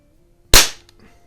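A Crosman 147 self-cocking .177 pellet rifle fires once outdoors while plinking, a single sharp, loud crack with a quick decaying tail in otherwise quiet surroundings.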